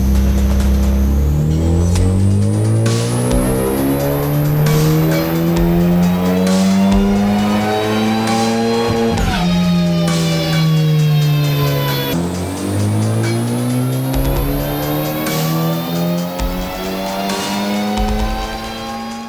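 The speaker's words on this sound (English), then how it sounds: "Let's get the car loaded onto the dyno and see what power it makes." A Honda Civic Type R FK8 on a dyno, its engine running loud and steady near the microphone, pitch climbing through a long pull, dropping off around the midpoint, then rising again through a second run.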